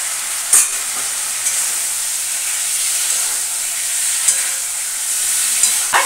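Fish with papaya and potato sautéing in a pan with spices and a little black pepper, a steady close sizzle and hiss running throughout with occasional sharp spatters and stirring scrapes, no voices.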